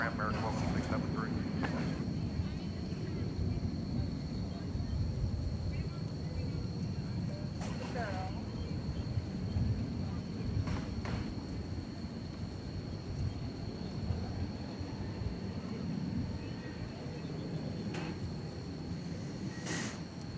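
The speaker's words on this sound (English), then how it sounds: "some people like the sound of planes" Jet airplanes at DFW Airport in Dallas, a steady loud low rumble of engine noise running throughout, with faint voices in the background.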